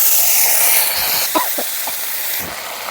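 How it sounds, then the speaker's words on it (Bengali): Ginger paste hitting hot oil already holding bay leaves, a dried red chilli and cumin gives a steady, bright sizzling hiss throughout, with a few light clinks and stirring knocks, no talking. "এখন দিয়ে দিচ্ছি আদা বাটা,"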